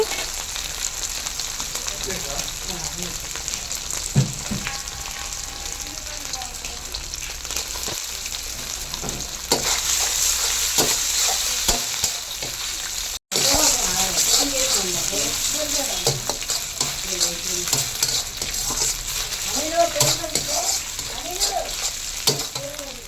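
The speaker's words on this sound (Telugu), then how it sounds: "ఆయిల్ బాగా హీట్ ఎక్కిన తర్వాత కట్ చేసిన చికెన్ ఫ్రై పీసెస్ని వేసుకోవాలి. లైట్గా ఫ్రై చేసుకోవాలి" Chicken pieces fry in hot oil in a kadai, a loud continuous sizzle with scattered stirring clinks and a brief cut partway, while a person talks over much of it.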